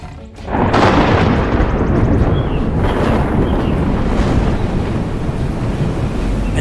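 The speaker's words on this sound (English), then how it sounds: "the wind thrashes through the canopy" Loud, continuous roaring wind thrashing through a rainforest canopy with a heavy rushing wash of rain, sustained and close throughout.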